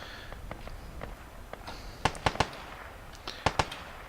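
Gunfire in a video game battle between American and Russian sides: scattered sharp shots, some faint and distant, then two tight clusters of three loud cracks and a final pair.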